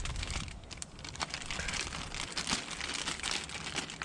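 A small plastic bag crinkles and rustles continuously as it is handled up close, a busy crackling texture at low level with no voices.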